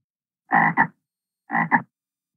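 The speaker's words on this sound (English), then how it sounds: "Frogs love to eat bugs. This frog is green." A green frog croaks twice, each call a short double-pulsed throaty croak separated by about a second of silence, close and clear.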